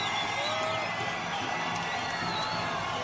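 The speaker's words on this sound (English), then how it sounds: "the crowd loves Gina Carano" Arena crowd cheering and whooping for MMA fighter Gina Carano before her bout with Rosi Sexton, a dense, steady roar of many voices filling the whole stretch without a break.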